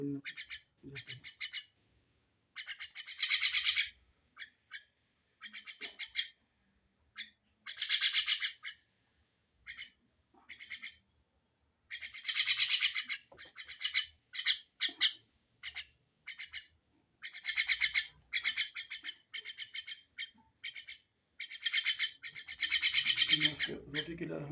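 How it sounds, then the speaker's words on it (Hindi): A talking myna bird gives repeated bursts of chirps, squawks and whistled calls, close and clear, separated by short silences. "तो ये मीना भी बोलने जाती है।"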